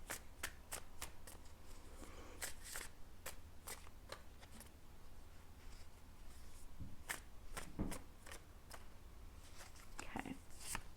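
Tarot cards being shuffled by hand, a series of sharp, crisp riffles and taps in irregular bursts, close and fairly quiet, with no talking over them.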